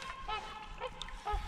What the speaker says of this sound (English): Black trumpeter swans.